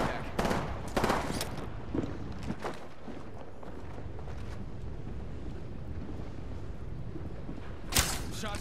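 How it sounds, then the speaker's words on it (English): Gunfire in Apex Legends, fairly faint and distant: a cluster of shots early on, a couple of scattered pops, a quiet stretch, then one final burst near the end. "Shots fired, and they're hitting me."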